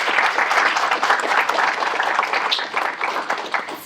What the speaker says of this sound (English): I'm going to give a quick round of applause for Rowan